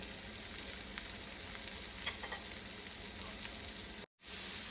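Tomato, egg and cheese frying in a pan, giving a steady crackling sizzle throughout, with a brief drop to near silence just before the end as it is flipped, then the sizzle resumes.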